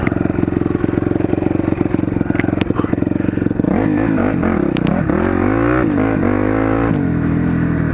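A motorcycle with a broken clutch cable rides along, its engine droning steadily and then shifting pitch in rising and falling sweeps as gears change without the clutch, loud and close with no talking.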